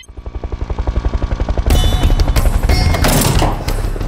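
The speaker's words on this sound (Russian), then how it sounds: "Это звук вертолета." Police helicopter rotor thumping in a steady rapid pulse, growing louder as it nears, then joined by a broad roar and loud clattering, without talk.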